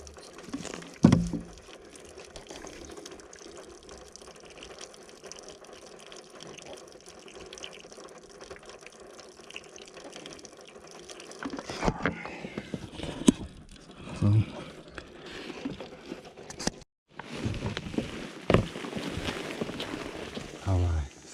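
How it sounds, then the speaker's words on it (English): Water drains from an air conditioner condensate pipe, a running, splashing trickle that carries on steadily and grows louder and more broken near the end, while someone talks over part of it. "Alright, so it's draining now."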